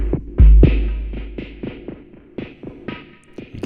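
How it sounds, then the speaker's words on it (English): A delay effect fades out in a live electronic music jam, with a thumping bass-drum hit followed by rhythmic echoing pulses that steadily grow quieter and sparser. "You can hear that delay starting to fade out."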